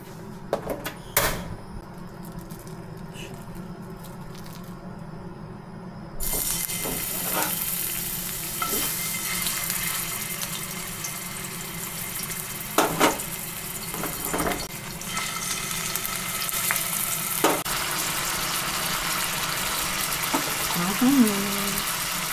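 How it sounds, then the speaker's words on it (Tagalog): Longganisa sausage frying in a pan bursts into a loud, close sizzle partway through. Scattered clanks and knocks of kitchen handling sound before it and on top of the frying. "magpiprito naman tayo ng longganisa"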